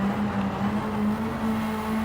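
A racing video game car engine drones steadily and loud at a constant pitch as the driver shifts gears, the note holding even with no pause or talk.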